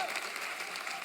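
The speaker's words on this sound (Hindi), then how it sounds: "आप सबकी जोरदार तालियों के बीच" Studio audience applause at a Hindi comedy show, a brief steady wash of clapping from a crowd.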